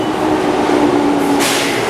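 A train sits at a Tokyo station with a loud, steady rumble and hum throughout. A brighter hiss rises near the end as the doors close.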